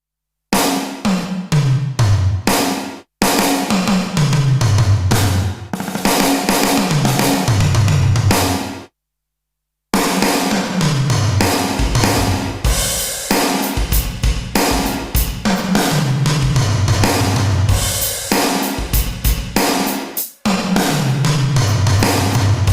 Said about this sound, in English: I can add my own real gated reverb.